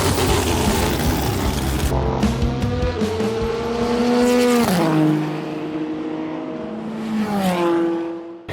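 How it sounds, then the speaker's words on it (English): LMP1 prototype race cars sweep through turn 1 of a circuit, engines screaming loud and close as they pass one after another, pitch climbing and dropping with each car, with a brief tire squeal in between. "The LMP1 cars through turn 1 are just on another level."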